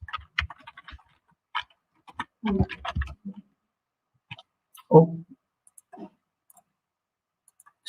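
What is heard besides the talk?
typing on a computer keyboard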